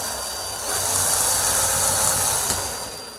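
A screwdriver drives a Phillips screw into an interior door handle, giving a steady close mechanical whirring and grinding texture under a broad hiss, rising slightly then easing, with one small click near the end.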